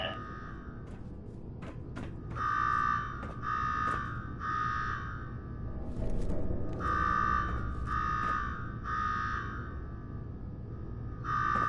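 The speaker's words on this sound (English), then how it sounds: "Now go shut off that damn alarm." Alarm blaring in Fallout 4's Nuka-World, a loud repeating electronic buzz in pulsed bursts of about a second each, sounding over a low rumbling game background with brief clicks between.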